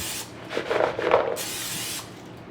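Cooking spray hisses from an aerosol can onto fries, two short bursts of steady spray close by with no talking.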